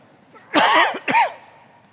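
Two sharp coughs from smoke of a ritual fire, in quick succession, close and loud, the second slightly shorter, with quiet before and after.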